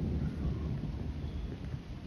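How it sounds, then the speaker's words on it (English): Thunder rumbles low during a thunderstorm with rain falling, a faint continuous rolling roar with no voices. "Thunder is there."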